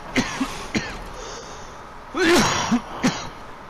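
One harsh cough or throat-clearing burst stands out near the middle, surrounded by a few short, soft vocal grunts against a quiet hum.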